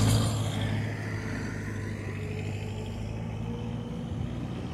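A truck arriving at a cattle fair in Guarabira gives a steady low engine rumble that idles and drones close by for a few seconds, with no speech.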